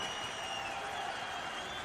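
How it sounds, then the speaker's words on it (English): A basketball arena crowd at a FIBA U17 World Cup game between Italy and Türkiye, with steady, fairly faint applause and cheering washing through the whole moment, and no clear talking on top. "And that hustle in itself brings the crowd to its feet"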